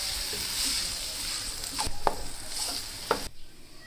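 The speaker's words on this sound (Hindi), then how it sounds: "2 टेबलस्पून इसमें जाएगी कुटी सब्ज़ मिर्चें। अब इनको मैं 2 मिनट तक फ्राई करूँगी।" Garlic ginger paste and crushed green chillies fry in oil, giving a steady close sizzle with a few sharp stirring scrapes of a spoon against the pan.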